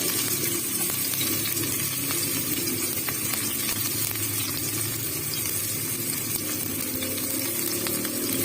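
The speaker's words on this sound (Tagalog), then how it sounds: "mainit na po yung ating uh, ating mantika. Ayan, magigisa na po tayo" Hot cooking oil sizzling steadily as aromatics are sautéed for ginisang pechay, a constant dense hiss close up with faint clinks, no talk.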